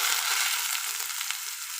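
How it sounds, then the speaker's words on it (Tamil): Curry leaves fry in hot oil for a chutney tempering, giving off a bright, continuous sizzle up close with faint crackles and no talk. "இப்போ கருவேப்பிலை கொஞ்சம் வதங்கணும்"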